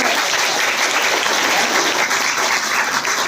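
Loud, dense applause from many hands, continuous and even for the full stretch, heard during a paper flower-making lesson.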